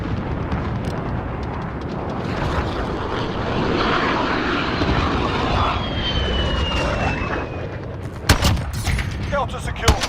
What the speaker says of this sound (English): Friendly VTOL on station for overwatch.